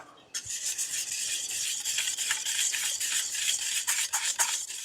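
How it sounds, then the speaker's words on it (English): Dry seasoning ingredients are stirred together in a bowl, a steady close scraping and rubbing with gritty rasping strokes that start abruptly and continue without pause, with no talking. "time to mix that up"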